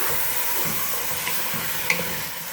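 Onions fry in oil for beef karahi while being stirred, a loud, steady hiss of sizzling with soft scraping and a couple of sharp utensil clicks against the pot.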